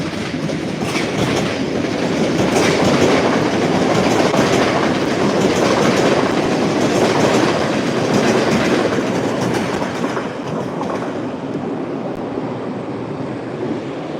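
A commuter rail train rolls past at Forest Hills station, a loud sustained roar of wheels with rhythmic clickety-clack over the rail joints, close by and fading slightly toward the end.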